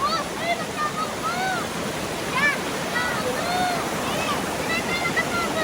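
Strong rushing water roars steadily and loudly at a countryside river spot, while birds chirp through it and no one speaks.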